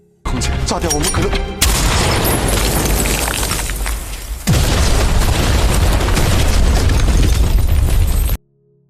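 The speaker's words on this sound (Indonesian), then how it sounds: "Setelah meledakkan dinding altar menggunakan dinamit" Dynamite blasts apart an altar wall in a film scene, producing loud, sustained booming and rumbling debris that fills the clip, with a voice speaking over it.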